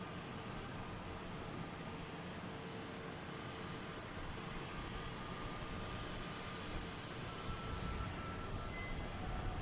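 A British Airways jet aircraft at Boston Logan Airport, a steady broadband engine roar held at a fairly even level throughout, heard at some distance with no voices.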